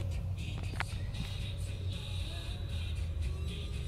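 A 2010 Chevrolet Malibu LS with 68,000 miles idles at a steady, misfire-free pace, giving a continuous low rumble with a faint whir above it and no revving.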